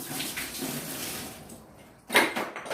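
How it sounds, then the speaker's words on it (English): Vinegar water left over from cleaning CPAP equipment is poured out, a brief splashing rush that fades, followed by a short louder gush of liquid near the end, close by with no talking. "I am going to pour out the vinegar water"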